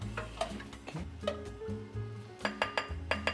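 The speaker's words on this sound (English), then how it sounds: "And then you stir it." A utensil stirs mac and cheese in a pot, giving repeated close clinks and scrapes of metal against the pot in an uneven rhythm.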